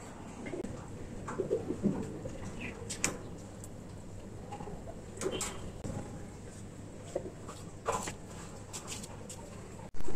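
Pigeons at a backyard loft, let out to bathe, coo softly amid faint ticks and wing flutters over a quiet background, with a few muffled sounds and a sudden loud bump at the end.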